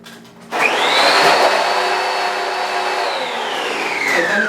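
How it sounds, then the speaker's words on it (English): A suction machine's motor runs during a suction test, starting abruptly with a loud steady whine and roar that holds nearly constant, its pitch sagging slightly toward the end. "here's the way the suction travels on your machine. Down here is the motor."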